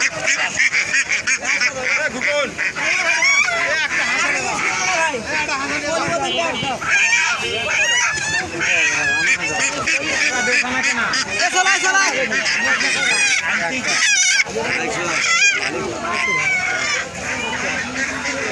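Ducks at a poultry market keep up loud, nearby honking and quacking throughout, mixed with busy chatter and bargaining voices.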